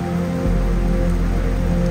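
Heavy rain pours steadily outdoors at Maniyar Kattachira in Kerala, a dense, continuous hiss of drops drumming on surfaces with no pauses and no voices.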